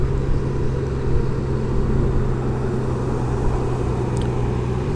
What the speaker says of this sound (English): A lot of traffic here in our neck of the woods.